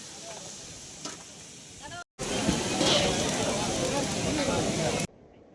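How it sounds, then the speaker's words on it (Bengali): Crabs deep-frying in oil at a beach food stall by the sea at night, a dense close sizzle that swells loudly after a brief cut, with talk faintly around it. "উপরে সব কাঁচা মাছ আর নিচে দেখো ফ্রাই করা হচ্ছে।"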